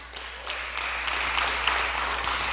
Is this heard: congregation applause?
yes